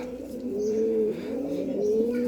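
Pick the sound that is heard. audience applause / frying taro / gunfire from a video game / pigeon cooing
pigeon cooing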